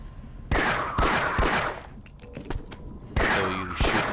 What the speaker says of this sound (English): So you shoot them 3 times in the head and they die